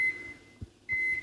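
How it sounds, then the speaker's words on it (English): Microwave oven timer being set, a sustained high electronic beep that stops, then two soft button presses or clicks, then the tone resumes loudly, heard up close with no talking. "So let's put the timer on."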